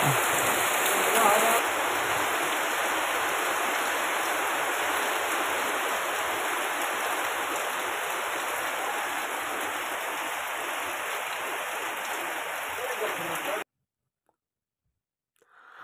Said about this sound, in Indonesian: masih hujan itu di luar tuh guys